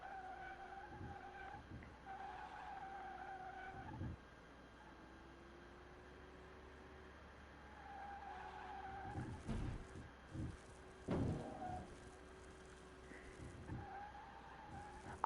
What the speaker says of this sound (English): Why am I getting so much wheel spin?